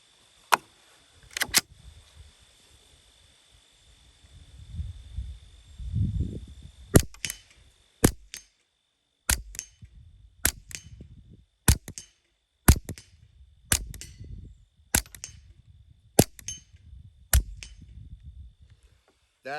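A Legacy Citadel TRAKR .22 semi-automatic rifle fires 38-grain Aguila subsonic rounds outdoors. There are about fourteen sharp, close cracks at uneven intervals, and wind rumbles underneath between shots.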